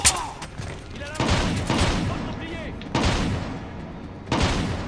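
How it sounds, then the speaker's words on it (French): Shotgun gunfire in the stealth video game Splinter Cell Blacklist, several loud booming blasts at irregular intervals, with game voices talking in between. "Ils sont sérieux, le fusil à pompe là?"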